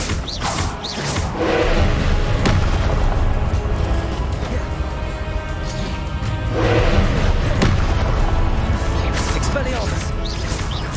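Confringo fire-spell blasts in Hogwarts Legacy combat burst out again and again as loud crashes and thuds over a dense, clattering battle din, while a voice shouts at intervals throughout.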